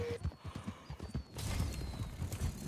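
Horse hooves clip-clop in a video game in a quick, even rhythm at close range, continuing steadily over a low ambient background.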